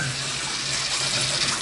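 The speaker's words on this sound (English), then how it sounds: "You can hear the water pressure is excellent." Hot water running at high pressure from a shower, a loud, steady, broadband rushing hiss with an even spray throughout and no talk.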